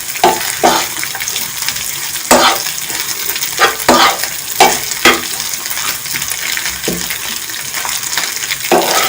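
Chicken samosa filling frying with tikka masala, a continuous sizzle punctuated by a rhythmic series of loud scrapes and knocks from a spoon stirring in the pan.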